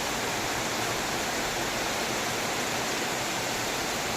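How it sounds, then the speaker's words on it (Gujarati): Heavy monsoon rain pours down steadily outdoors, a dense, continuous broadband hiss with no breaks and no voices. "જોઈ લેજો વરસાદ"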